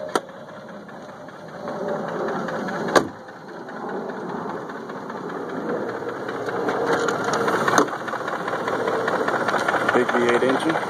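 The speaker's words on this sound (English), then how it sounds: "Big V8 engine" A 2001 BMW X5 4.4i with its V8 engine idling, a steady low mechanical hum with a sharp click near the start and a gradual swell in level toward the end.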